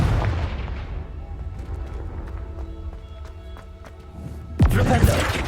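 Spells cast in the video game Hogwarts Legacy, with Flipendo, Confringo and defensive casts giving sharp whooshing bursts and impacts, followed by a loud blast near the end, amid game ambience.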